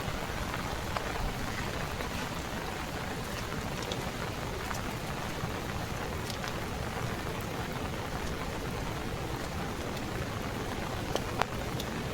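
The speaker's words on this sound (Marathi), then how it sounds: "सध्या पाऊस चालू असा बारीक बारीक" Light rain falls near a river in a Konkan forest, a dense, even patter of drops hissing on leaves and surfaces, unbroken and fairly loud throughout with no voices.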